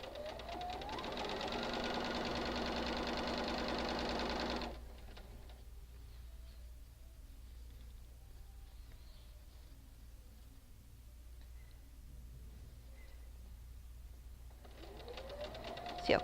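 A sewing machine chain-pieces quilt block seams, running in a fast steady whir for several seconds, stopping to near silence, then starting up again at the end, close by.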